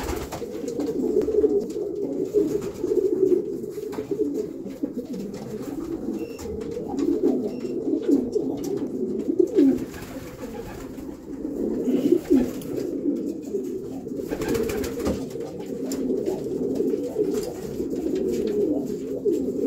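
Pigeons in a loft coo steadily and close by, their soft overlapping calls continuing for about twenty seconds on a hot day.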